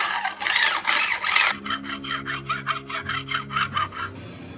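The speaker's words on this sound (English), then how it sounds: "I'm just using my arm to shuttle it back and forth along the top of the frets to skim them" A metal file skims the tops of guitar frets during a refret restoration, rasping back and forth in steady rhythmic strokes, close and fairly loud, with a louder, denser burst of scraping at the start.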